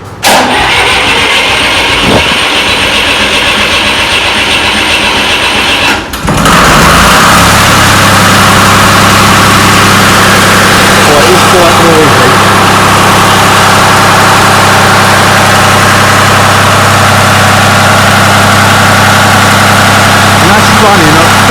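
An Italian Lombardini classic engine cranks through a rough start, then settles into a loud, steady running drone at roughly 1600 rpm, with people talking faintly underneath.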